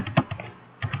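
Quick keystrokes on a computer keyboard, a short burst of taps, a pause, then two more taps, close and fairly quiet.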